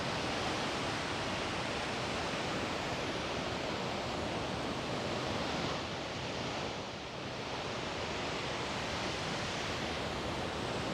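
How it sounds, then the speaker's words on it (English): A waterfall on the Smiths Falls heritage trail in Ontario, Canada, roars as a steady, broadband rush of falling water, loud and unbroken throughout, with a little wind buffeting the microphone. "So there's another waterfall there."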